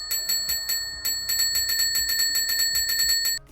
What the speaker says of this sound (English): It is a service bell, and it does make noise